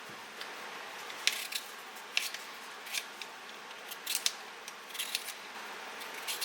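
Two very small potatoes being peeled for a breakfast hash, giving faint, sparse scraping and clicking strokes at an irregular pace over a quiet background, with no one talking.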